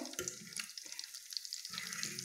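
Onion rings frying in a pan of hot oil give off a steady, close crackling sizzle that runs the whole time, with a few brief bumps of kitchen clatter and no talking.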